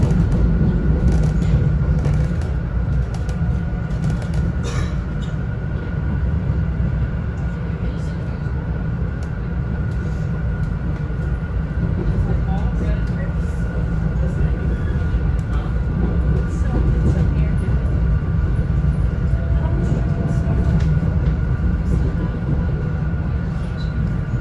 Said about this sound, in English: We got on the wrong train and now we're in Pittsburgh.